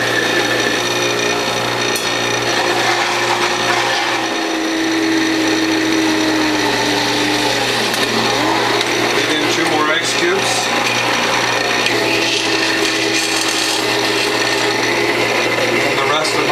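A WHF juicer grinds wheatgrass and sunflower sprouts with a steady motor hum and continuous rasping and crunching, close up and without a break.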